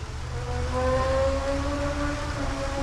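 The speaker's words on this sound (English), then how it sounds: "That was a motorcycle. People are racing up on I-35." A motorcycle races along the I-35 highway near a zoo in Gainesville, Texas, its engine a steady, tonal whine that drifts slightly lower in pitch as it passes, heard alone without talk.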